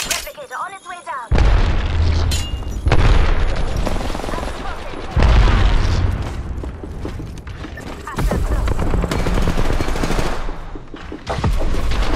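Grenade blast and heavy gunfire in the Apex Legends battle royale game, with loud repeated booms and rapid automatic shots running throughout, along with bursts of chaotic combat noise.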